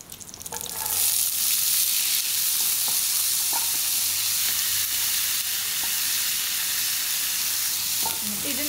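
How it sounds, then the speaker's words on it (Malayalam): Chopped potatoes frying in hot oil for a beef mortabak filling, a loud continuous sizzle that jumps up as they go in, with faint stirring taps, no voices. "അപ്പം ഈ എണ്ണ ചൂടാകുമ്പോഴേക്കും നമ്മൾ അതിലേക്ക് ഒരു 4 ഉരുളക്കിഴങ്ങ് ചെറുതായിട്ട് അരിഞ്ഞത് കൂടി ചേർത്ത്"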